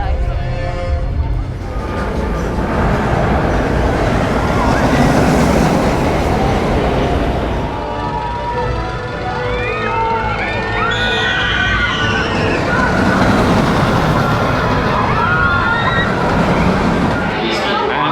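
The Intamin-built Colossus roller coaster at Thorpe Park, a ten-looping ride, roars continuously on track from an onboard position, a loud steady rush of wind and rattling wheels with riders' distant screams rising throughout.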